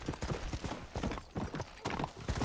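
Hooves clip-clop in a steady, fairly close rhythm as a horse moves in Red Dead Redemption, each strike distinct and evenly paced across the moment.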